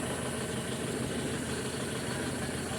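A 2000 Toyota Tacoma engine idles steadily just after being started, a close, continuous rumbling drone with no break and no talking.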